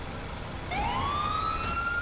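An ambulance siren rises into a sustained wail partway through, heard from a short distance on a Los Angeles-style city street in GTA5, over a steady background rumble.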